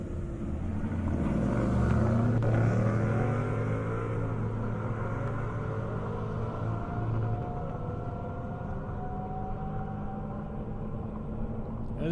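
A 2023 Toyota Corolla Circuit Edition and a Ford Mustang drag racing side by side down a half-mile airport airstrip, a continuous loud engine roar with shifting pitch, heard from a distance while a commentator talks over it.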